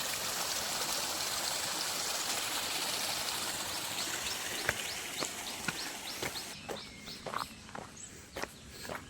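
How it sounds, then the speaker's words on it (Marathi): A small stream trickles and burbles steadily close by in Sanjay Gandhi National Park, while footsteps crunch along over the flowing water. "पाणी कसं वाहते बघा"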